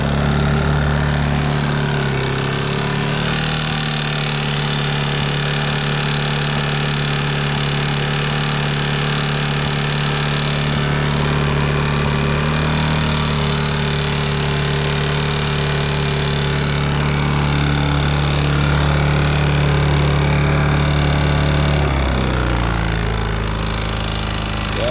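A small engine runs steadily after a choked start, a loud continuous drone with a low, even idle that drops in pitch near the end.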